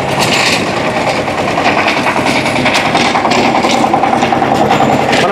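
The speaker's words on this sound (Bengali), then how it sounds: "শুকনা মাটি চাষ করা হচ্ছে।" A mini tractor fitted with a power-tiller-style plough working dry soil in a field, its engine running loud and continuous under strain, with a rough rattling, hammering texture and no pause.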